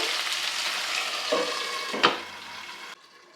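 Masala fish fries in a pan that is then covered, giving a steady, close sizzling hiss with a couple of brief louder crackles. The hiss drops sharply just before the end.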